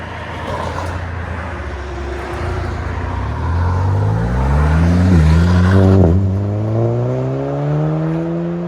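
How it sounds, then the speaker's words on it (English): 2017 VW Golf GTI turbo with a twister muffler, rear muffler delete and stock converters, revving up hard, a rising raspy exhaust note that climbs in pitch, dips, and climbs again, loud and close. "it's got a twister muffler and then a rear muffler delete"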